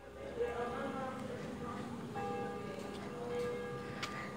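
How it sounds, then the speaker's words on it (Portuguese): A church bell rings from somewhere across a small town in Maranhão, its tones sustained and blending with steady outdoor ambience, moderately distant and not very loud. "Tem um sino tocando pra ali."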